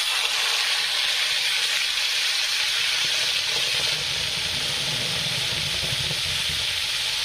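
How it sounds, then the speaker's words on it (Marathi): Garlic frying in hot oil in a pan for egg curry, giving a loud, close, steady sizzle and hiss that runs unbroken throughout with no voices. "तर लसूण फ्राय झाला आहे कारण तेल पण गरम झाले ना"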